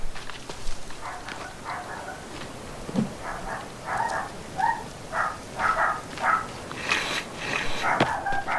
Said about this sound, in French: attendez, c'est le chien